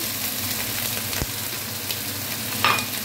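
Eggplant with ginger and garlic is sautéed in a pan, giving a steady close sizzle with a brief stirring scrape and a small clink near the end.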